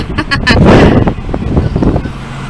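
A car passes close by on a street in Veracruz, a brief swelling rush of engine and road noise over wind buffeting, with a voice talking over it.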